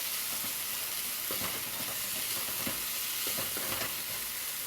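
Onions for paneer do pyaza frying in a pan, a soft continuous sizzle with intermittent stirring scrapes and clinks, fairly quiet and close, no talking.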